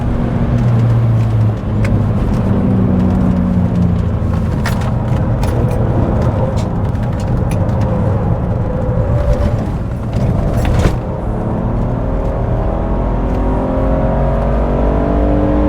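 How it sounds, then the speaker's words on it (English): A BMW E46 330i drives hard on an empty race track, its engine droning and revving steadily with continuous road and wind noise throughout, close and loud. "Finished the lap with Misha. I'm going out for another one on my own"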